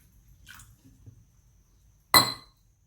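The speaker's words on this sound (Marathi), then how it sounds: "याच्यात आपण हे पाणी घालत आहोत पहा" Water poured into a bowl of semolina (rava) for a breakfast dish, heard as one short, fairly loud splashing burst after a few quiet kitchen knocks.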